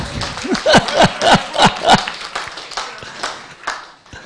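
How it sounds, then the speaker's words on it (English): Live-stream event audience gives a round of applause as a presenter is brought on stage: a run of distinct, fairly close claps over a few seconds, with a voice speaking over them. "Big round of applause to Maria."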